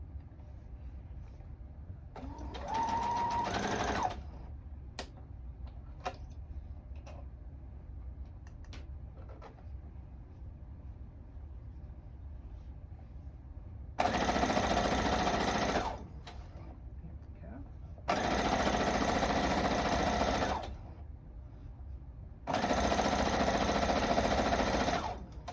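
A sewing machine stitches the last seam of a Kaffe-inspired scrappy heart quilt, running in four separate whirring bursts with quiet pauses between them.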